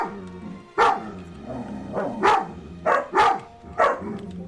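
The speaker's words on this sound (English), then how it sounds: "We have the dogs wrestling in the background to provide some ambiance for us." Dogs wrestling and barking nearby, with about five loud, sharp barks spaced irregularly over a low background of growls and scuffling.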